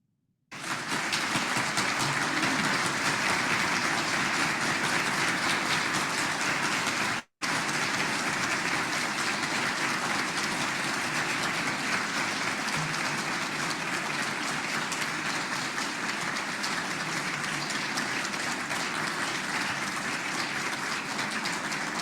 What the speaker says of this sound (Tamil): எல்லோரும் கைதட்டும்படி 30 கைதட்டுகள் கேட்டுக்கொள்கின்றேன்.